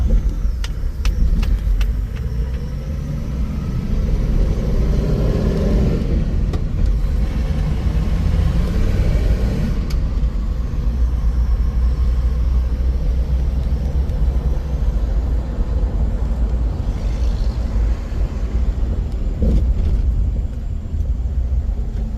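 A 1965 Dodge Dart GT V8 with a four-speed manual and dual Holley carburetors rumbles steadily while driving, with road noise throughout and brief revving shifts in the engine pitch.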